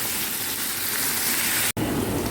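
Tomatoes fry for bhindi masala in a pan with a steady, dense sizzle that continues without a break except for one very brief drop in sound, and no one talks over it.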